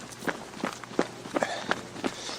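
Two people jog on a hiking trail, their footsteps landing in a close, regular patter with slightly uneven spacing, where one runner's cadence differs from the other's.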